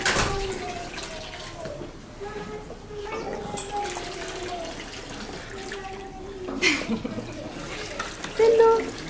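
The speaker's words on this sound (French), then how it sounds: "Joli le bruit de l'eau." Water runs in a steady, moderate stream nearby, with a few louder splashy bursts near the end and faint voices and tones mixed underneath.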